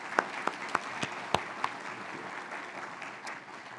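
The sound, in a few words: applause for university officials at a commencement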